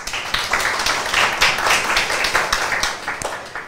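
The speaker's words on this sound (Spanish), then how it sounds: "Un aplauso para ella, por favor." An audience claps for a speaker at an online conference, a steady run of many hands with individual claps standing out, fairly close and alone without talk.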